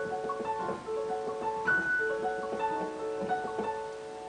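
Piano plays a quiet, gentle passage from Clair de Lune, with sustained notes walking down and a few soft chords, heard alone without talking.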